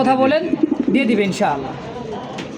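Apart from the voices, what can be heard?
American Show King pigeons cooing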